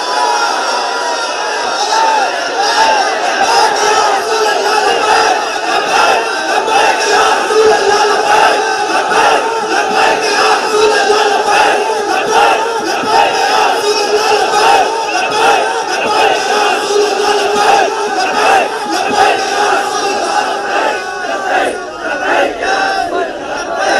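A large crowd at a religious speech gathering loudly chants the slogan Labbaik, a dense, continuous roar of massed voices that holds steady throughout.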